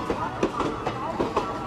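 A train rolls slowly along the rails at around 20 to 30 km/h, with wheels clacking in a steady, evenly spaced rhythm over a constant low rumble, moderately close.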